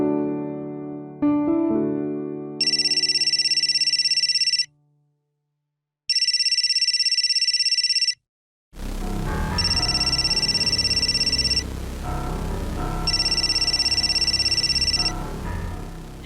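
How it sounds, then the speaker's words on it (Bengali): A telephone rings with a repeated electronic ringtone. Four evenly spaced bursts sound loud and close, first over near silence and then over a busier room background. "এটা একটা রং নাম্বার থেকে ফোন এসছে"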